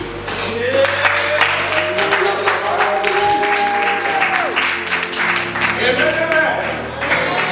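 A church congregation bursts into sustained applause to acclaim the word of God, loud and continuous clapping with voices and sustained tones layered underneath.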